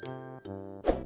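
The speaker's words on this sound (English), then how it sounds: "Also don't forget to ring that bell." A bright notification bell dings in two short tones followed by a soft whoosh, clean and close with no talk.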